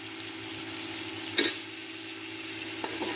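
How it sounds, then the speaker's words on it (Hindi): Potatoes fry with masala in a pan, a steady close sizzle with a short clatter of stirring near the start and a light tap later, no talking. "अच्छे से भूनना है हमने आलू को"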